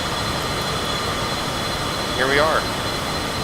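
Steady broadband jet engine roar inside the cabin of a Cessna Citation CJ4 in flight, constant and fairly loud, with a brief spoken phrase over it.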